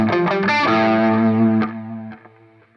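A distorted electric guitar plays a quick quintuplet arpeggio, notes running up, down and up again, then ringing out and fading.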